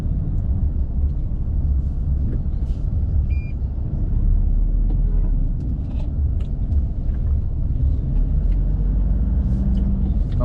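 Steady road traffic on Phetchaburi Road in Bangkok, with lanes diverted around an elevated rail construction site, forms a continuous low rumble of idling and creeping cars and trucks in a Sunday jam, fairly loud and unbroken.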